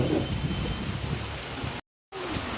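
Heavy rain pouring down during a sudden windy storm, a dense steady hiss of falling water with a brief break near the end, no talk.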